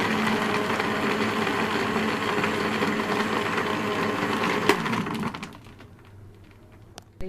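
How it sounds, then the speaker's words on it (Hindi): A kitchen blender whirs loudly and steadily while blending mint lemonade, then cuts off after about five seconds, leaving faint clatter and a final knock. "मैं ब्लेंड करूँगी।"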